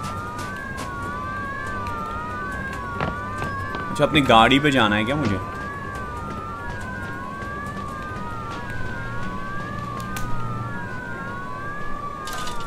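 Police sirens wail continuously in the video game Mafia Definitive Edition, rising and falling in overlapping tones at moderate distance. Someone speaks Hindi briefly over them.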